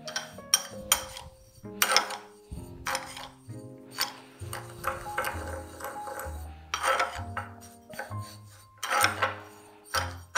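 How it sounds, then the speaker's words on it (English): A spoon stirs sprinkles coated with edible gold powder in a bowl, giving close, irregular scraping, rattling and clinking that comes and goes over several seconds, with no talk. "I'm going to put about this much in and stir it till all the sprinkles are coated."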